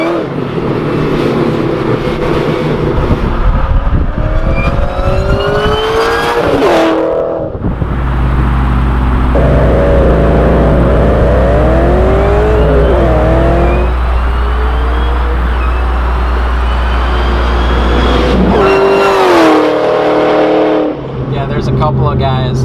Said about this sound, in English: the way that this blower winds too, it just sounds psychotic